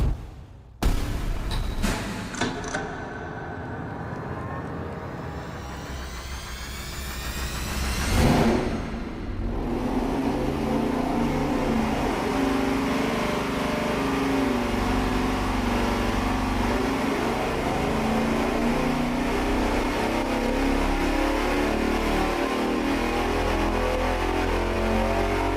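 A naturally aspirated 440 V8 fitted with TFS aluminum heads fires up on a dyno, then sweeps upward in a long, loud pull that settles into a sustained, roaring high-rpm drone for the rest of the run.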